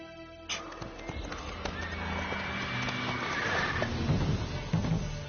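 Horse in The Witcher 3 game, hooves clip-clopping at a gallop with a neigh rising midway, steady and fairly close throughout.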